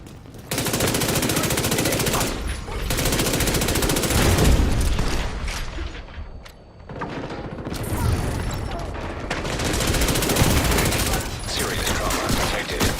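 Rapid bursts of SMG fire from a video game shooter ring out loud and near, in long sustained volleys with a short lull near the middle before the shooting resumes.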